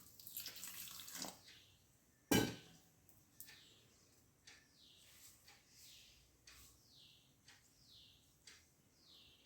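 Water is added to a raw banana papad mixture in short pours and trickles, with one sharp splash followed by a series of quiet, repeated drips and splashes, without talk.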